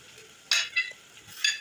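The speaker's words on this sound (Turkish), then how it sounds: "Salçamızın kokusu çıkıncaya kadar güzel bir şekilde kavuralım." Tomato paste with borlotti beans fries in a pan while a spoon stirs, giving three short scraping, sizzling strokes against a quiet background.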